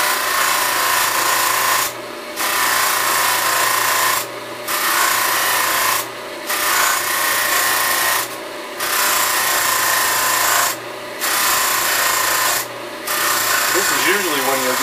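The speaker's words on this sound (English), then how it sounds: "when you're doing the top of the pipe to not let the buffing wheel catch the edge of the bowl" A buffing wheel spins steadily against a tobacco pipe, giving a continuous loud rasping whir that dips briefly every couple of seconds as the pipe is lifted and repositioned, with no talking.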